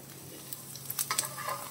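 Small pieces of chopped garlic fry in oil in a pan, a soft steady sizzle with a few light crackles and utensil clicks close by, and no voices.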